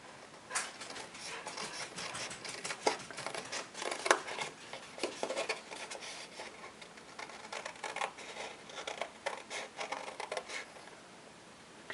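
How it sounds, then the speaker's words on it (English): Paper snips cutting card stock along a diagonal edge, a quick series of close, crisp snipping clicks repeating steadily without any talk. "you need to cut along that diagonal edge"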